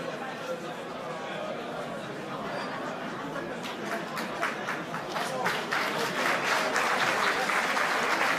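A crowd at a combat sports semifinal bout applauds the fighters, clapping building and growing louder over several seconds amid chatter, with an announcer's voice heard over it.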